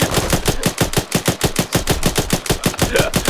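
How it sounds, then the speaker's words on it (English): Rapid, sustained machine gun fire in steady bursts, loud and close, with no talking, in the video game Arma 3. "I can't hear you over the gunfire."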